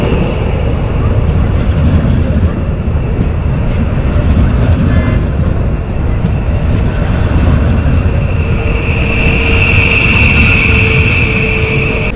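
A loud, steady rumble of a train at a platform in Zagreb main station fills the air, with a rising whine late on and faint background chatter.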